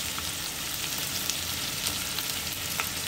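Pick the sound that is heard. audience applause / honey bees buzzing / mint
mint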